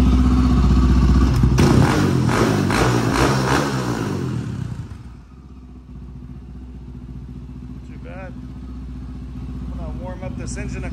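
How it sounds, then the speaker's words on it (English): A Honda 400EX ATV engine, rebuilt with a 400cc big bore kit, idles and revs loudly for several seconds with mechanical clatter, then drops to a quieter steady idle with faint sounds above it. "Warm up this engine a couple times"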